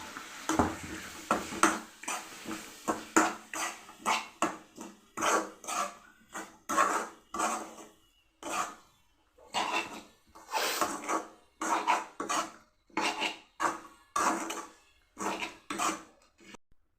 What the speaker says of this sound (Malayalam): നല്ലതുപോലെ മിക്സ് ചെയ്യാം.